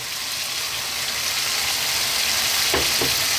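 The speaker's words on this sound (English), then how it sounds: "we're now going to go back in with our bacon" Bacon goes back into a hot pan for a garlic tomato pasta, producing a loud, continuous close sizzle with a short clatter of utensils toward the end.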